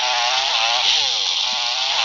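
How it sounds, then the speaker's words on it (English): A toy chainsaw given to a small child, a steady high-pitched buzzing whine that holds at constant loudness, close and uninterrupted. "So she uses this chainsaw for now."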